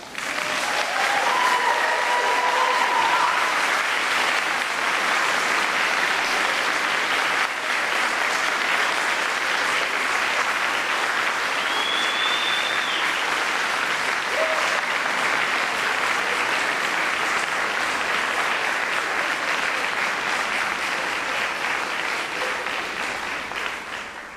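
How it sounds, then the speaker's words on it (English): Sustained applause from a large crowd at a University of Manchester graduation ceremony, steady and dense throughout, with a few faint cheers and whistles rising above the clapping. "give them a big round of applause"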